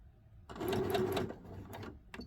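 A sewing machine stitches fabric in a short run, its rapid mechanical chatter rising after a quiet start, pausing briefly, then resuming with a few final clicks.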